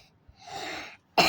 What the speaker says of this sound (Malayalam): എനിക്ക് വീണ്ടും ചുമക്കണം